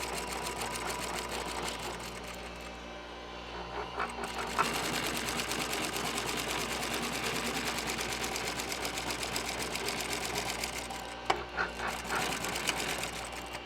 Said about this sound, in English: Just sew them together like that.